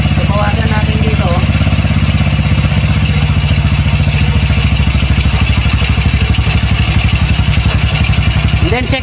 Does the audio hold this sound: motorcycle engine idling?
yes